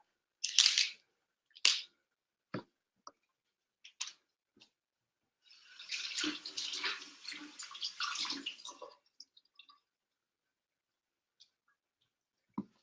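Fresh salad vegetables such as pepper, cucumber and celery rinsed under running water: a few sharp handling knocks and clicks, then a few seconds of gushing water, then more sparse clatter, all fairly quiet.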